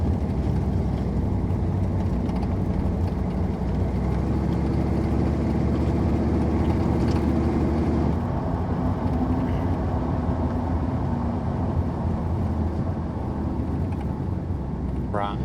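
A 1987 Chevrolet Suburban 4x4 with about 88,000 miles is driven, its engine and road noise forming a steady low interior rumble that continues throughout.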